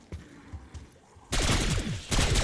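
Gunfire in the zombie game Citadelle Des Morts, starting with a few scattered shots, then a loud sustained barrage of rapid shooting up close for the second half.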